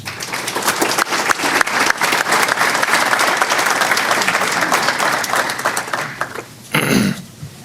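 An audience at a business leadership speaker series on healthcare in Maryland applauds steadily to welcome two speakers, a dense sustained clapping that fades out near the end before a brief louder rustle.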